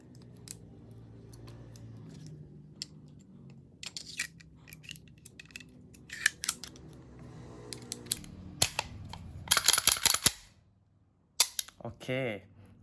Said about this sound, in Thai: เดี๋ยวผมมาประกอบปืนก่อน